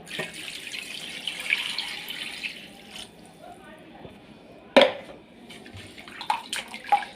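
Water sloshing and splashing in a bowl as fish is rinsed by hand, with a few sharper splashes and clinks toward the end.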